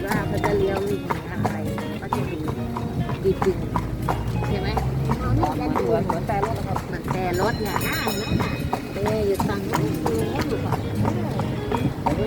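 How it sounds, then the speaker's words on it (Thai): Horse hooves clip-clop in a steady rhythm as a horse-drawn carriage rolls through town in Lampang, Thailand, heard close throughout with people talking over the clatter. "รถม้าที่เรานั่งครับนี่ครับ"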